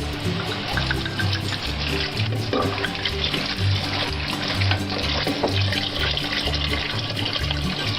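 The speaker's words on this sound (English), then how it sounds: "now I'm going to add about a bottle of wine to it" Bottle of Merlot wine poured into a pot of spaghetti sauce with tomato paste, a continuous gurgling splash of liquid running steadily and close.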